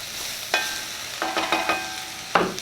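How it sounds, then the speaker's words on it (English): Cauliflower and sweet potato soup is stirred in a pot with a utensil, producing several distinct clinks and scrapes against the pot in an uneven rhythm, close and clear without any talking. "Stir it around."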